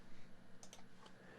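Short burst of typing on a computer keyboard while entering a name into a text layer: a few quick, faint clicking keystrokes clustered together, quiet and close, with no talk.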